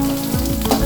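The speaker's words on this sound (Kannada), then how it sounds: "ತೆಂಗಿನಕಾಯಿ ಈರುಳ್ಳಿ ಅದು ಬ್ರೌನ್ ಕಲರ್ ಬರ್ತದಲ್ಲ ಅಷ್ಟರವರೆಗೆ ಹುರಿಬೇಕು" Onions and coconut frying in a pan, a dense, loud, close sizzle that runs steadily through the brief moment with no speech.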